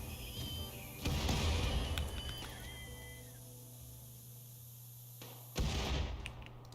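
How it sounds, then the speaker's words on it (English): Auto mortar shells fire in the RimWorld video game, two loud booming bursts about four seconds apart over a steady game background hum. "Oh wait, no, it has an auto mortar."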